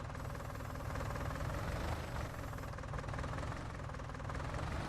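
A combine harvester engine in the farming game Farming Simulator 19 drones steadily, a loud, continuous low rumble with a knocking mechanical texture and no talk.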